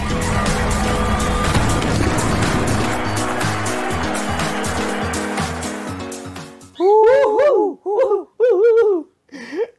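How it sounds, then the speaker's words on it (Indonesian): A noisy pet bird calls in several loud, warbling bursts near the end, following a stretch of busy mechanical and electronic noise. "Liga Inggris ini itu burung gue berisik juga ya."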